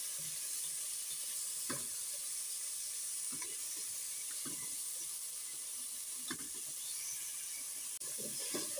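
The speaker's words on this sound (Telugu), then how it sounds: "కొద్దిగా ఆయిల్ వేసుకునేసి దాంట్లో గార్లిక్ కొద్దిగా ఫ్రై చేసుకోవాలి" Garlic fries in a little oil, a soft, steady sizzle and hiss that runs throughout, broken by a few faint stirring clicks, with no talking.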